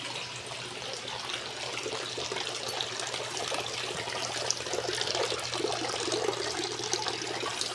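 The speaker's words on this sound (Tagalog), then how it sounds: "yan ang tubig, papasok sa bawat isa dyan sa container, then babalik sa drain." Water from an aquaponics setup with celery runs out of grow containers into a drain and back to a fish pond, giving a steady, soft, continuous trickle and splash at moderate distance, with no voices.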